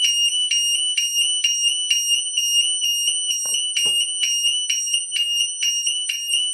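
An AG6 burglar alarm siren with strobe sounds loud and close in a fast, regular pulsing electronic tone, with a couple of faint thuds partway through.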